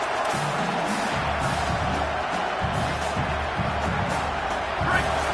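A stadium crowd at a college football game in Tennessee roars in a steady, loud wash of noise during a fourth-down play, with a commentator talking over it.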